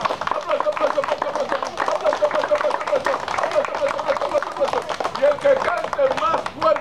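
A birthday party crowd with clowns claps hard in a contest for the reddest hands, fast, busy clapping running throughout, with voices chanting and talking over it.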